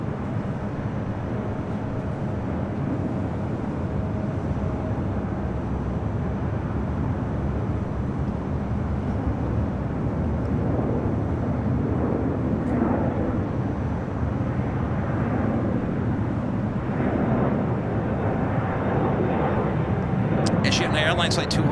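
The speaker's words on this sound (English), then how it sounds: "the flight just departing that United, Flight 1374, heading to Denver in the 737 at MAX 9" United Boeing 737 MAX 9 jet departing LAX at night, a steady broadband engine roar holding at constant loudness throughout with no distinct climb or fade, distant and continuous.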